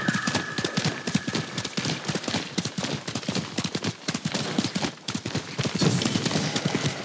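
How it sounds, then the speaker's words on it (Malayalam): A galloping horse in Ghost of Tsushima, steady rapid hoofbeats pounding close and clear for several seconds, unbroken and without speech over them. "ഈ കുതിര വെള്ളത്തിൽ കൂടെ ഓടാതെ"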